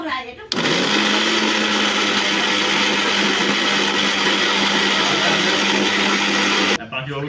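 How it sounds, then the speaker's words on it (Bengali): A blender grinds spice paste in one continuous loud, steady whir lasting several seconds, starting and stopping abruptly, with brief background sounds before and after. "মশলা বাটা শুরু হয়ে গেছে আমাদের"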